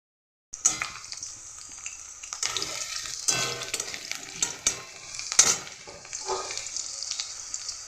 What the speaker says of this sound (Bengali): রাখা আলুগুলো আমি আলুটাকে একটু নেড়ে নেড়ে ভেজে নেব।